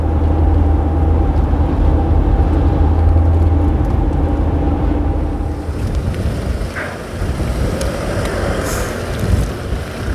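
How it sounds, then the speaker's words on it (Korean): Wind blowing at the Amtae-do ferry dock under a grey sky, a steady loud rumbling buffet with water and boat noise beneath it and no voices. "날씨는 좀 바람도 불고 그러는데"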